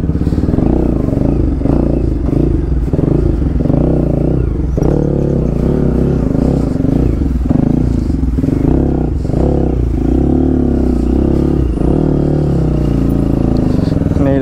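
Motorbike riding away from a waterfall viewpoint, engine droning steadily close by with repeated revs and rattling clatter throughout, sounding continuously loud with no pauses.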